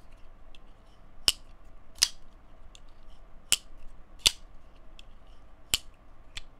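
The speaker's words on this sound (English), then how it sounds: "Acoustics are really nice too. Really clicky, clacky. Solid, satisfying sounding." A Microtech Matrix knife by Rike snaps open and closed, making six crisp, solid clicks at uneven intervals, close and sharp against a quiet background.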